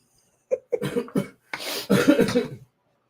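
Several quick, close coughs come in a burst, followed by a longer, rougher stretch of coughing or spluttering, loud and without talk.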